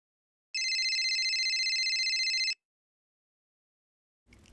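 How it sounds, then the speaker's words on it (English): A phone rings with a steady electronic trill that runs for about two seconds, fairly loud and alone, then stops, followed by a brief low rustle near the end. "Just then, her dad's phone rang."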